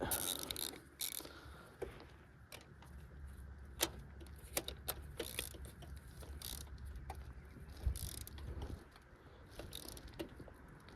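Ratchet wrench tightening a spark plug on a four-cylinder engine: a series of light metallic clicks in short bursts, close and fairly quiet, with a low steady hum underneath.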